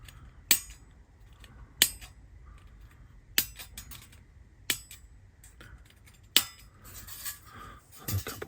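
Sharp snips of cutters clipping plastic nano roller coaster parts from the sprue, about five crisp distinct cuts spaced a second or so apart, close and isolated, with faint handling rustle between them.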